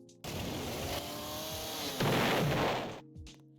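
Laser rifle and guns firing in a Roblox tycoon game: a loud, sustained burst of synthetic weapon fire with a harsh roaring texture, swelling louder midway and then cutting off abruptly, followed by a brief quieter tail.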